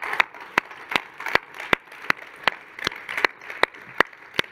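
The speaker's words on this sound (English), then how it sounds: "give a round of applause to the organizers of this" Isolated handclaps from an audience at a fireside chat event, sharp single claps spaced almost rhythmically about every half second, close and clear over a quiet room.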